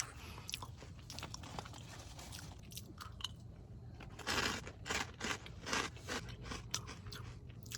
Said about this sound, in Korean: 새우국 먹고 있습니다.